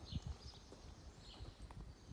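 A horse recovering from a bad road accident shifts on its hooves, giving a few irregular low thuds and clip-clops at moderate distance amid quiet background noise.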